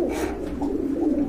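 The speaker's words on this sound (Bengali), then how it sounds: "চমৎকার কোয়ালিটি ফুল কবুতর।" A pair of Jacobin pigeons among other fancy breeds in a large collection gives a soft, continuous rolling coo, close by, pulsing gently for just over a second with no voices.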